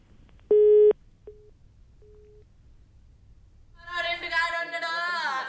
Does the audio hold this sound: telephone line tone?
yes